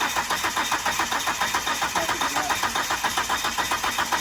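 A Dodge R/T car engine cranking and trying to start, a close, loud, rapid rhythmic chugging that repeats evenly without catching into a clear idle.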